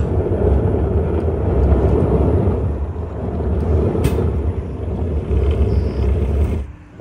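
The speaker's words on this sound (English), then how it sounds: "we can really feel that one wheel spinning and the other one not getting enough power" A Hummer EV electric pickup truck climbing a steep hill with one rear wheel spinning, heard as a loud, steady low rumble of tire and drivetrain noise that dies away abruptly at the end.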